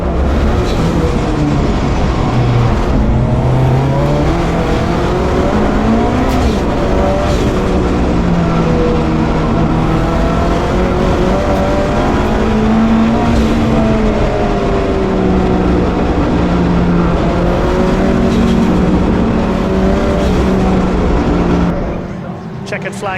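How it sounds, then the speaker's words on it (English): Thunder Saloon race cars, including a BMW, roar around the Snetterton circuit. Loud, continuous engine notes rise and fall through gear changes, with a commentator talking throughout. "Spencer goes a lap down in his BMW."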